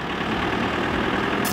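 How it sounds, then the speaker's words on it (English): A big old Caterpillar backhoe's diesel engine idles with a steady, loud, unbroken rumble close by, with no one talking over it. "His tractor of choice is a big old backhoe cat."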